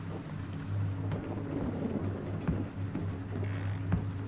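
Rain in the video game Home Sweet Home 2, a soft continuous patter with low rumbling underneath and a few faint knocks.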